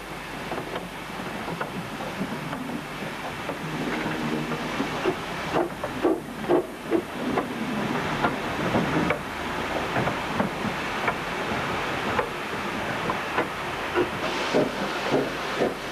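Bagnall 0-4-0 saddle tank steam locomotive from English China Clays, steamed at a special event, working nearby with steady hissing steam and chuffing bursts over continuous rumbling running noise, no talk.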